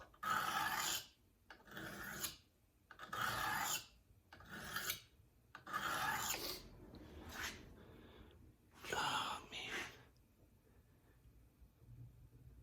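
A Suto knife blade is rasped back and forth on a coarse sharpening stone in about six slow gritty strokes, close and harsh, each stroke separated by a brief pause before the sound fades out.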